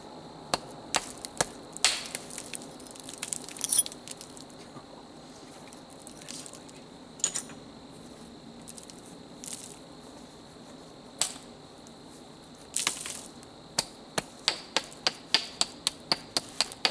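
Flint knapping late at night: a stone edge is trimmed with a series of sharp, close clicks and taps, some in quick bursts, ending in a rapid run of evenly spaced strikes over a quiet background.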